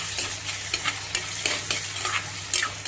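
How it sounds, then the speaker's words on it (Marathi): Onion, tomato and salt stirred together in a pan for a bitter gourd (karela) bhaji: repeated scraping spoon strokes at an irregular rhythm over a soft, steady sizzle, close and clear with no voices. "मीठ घातल्यानंतर पुन्हा आपल्याला एकजीव करून घ्यायचं आहे"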